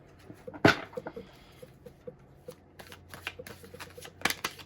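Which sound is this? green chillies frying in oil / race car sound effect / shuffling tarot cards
shuffling tarot cards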